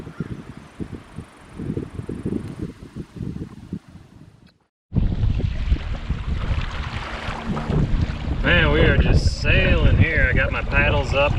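Strong wind roars and buffets the microphone on a boat running across a lake with the wind behind it, gusting steadily with a brief lull midway, while voices are faintly heard near the end.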